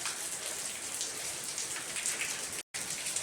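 Rain falls steadily in Manali, a dense, even hiss of drops on surfaces throughout, with a momentary dropout near the end.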